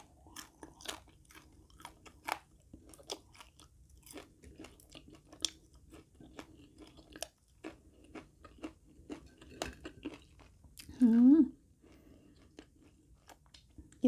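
Crunchy chewing of fried quail, a steady run of close, crisp bites and mastication at low volume, with one brief louder squeak near the end.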